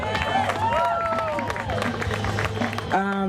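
A festival audience gives a round of applause, a dense wash of clapping mixed with crowd chatter and cheering voices, and a speaker's voice breaks in at the end.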